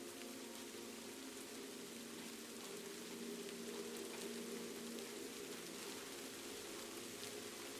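Steady rain falls through the night in Kyoto, Japan, a dense, even hiss of drops spread across the whole clip with no pauses and no voices, close and constant from start to finish.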